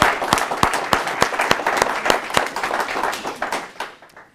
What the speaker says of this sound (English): We should applaud that first.